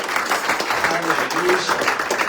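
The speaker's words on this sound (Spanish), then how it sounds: "¿Por qué no le da una fuerte ofrenda de palmas al Señor, iglesia?" A church congregation claps at a Spanish-language Seven Words service, producing dense, steady applause at moderate loudness with a voice faintly mixed in.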